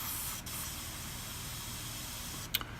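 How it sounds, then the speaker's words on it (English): A Badger Krome airbrush sprays at 7 to 8 psi in a broad pattern, giving a steady, soft continuous hiss of air with two brief louder bursts, close and fairly quiet. "Now I can get a broad spray pattern like so."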